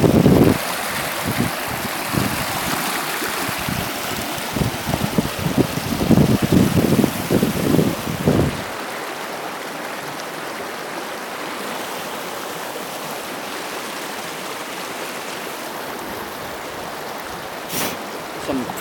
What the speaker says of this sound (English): can you hear me over the rapids?